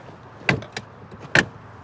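A Tesla's seventh-row rear seat rises from the deep trunk floor, making a few close mechanical clunks and short whirring bursts, with no one talking.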